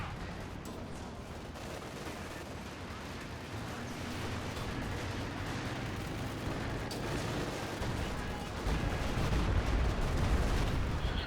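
Battle in the Company of Heroes 2 strategy game: a continuous roar of distant gunfire and explosions forms a dense, rumbling bed that swells louder toward the end, with no speech.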